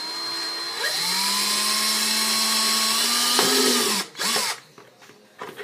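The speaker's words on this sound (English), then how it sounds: "I drill a hole there on both sides" A power drill bores a hole through a khaki HDPE stormtrooper helmet, giving a loud, steady whine for about three seconds before the bit breaks through and stops abruptly.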